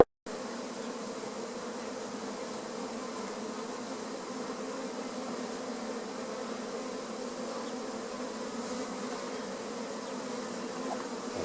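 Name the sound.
honeybee swarm buzzing around hive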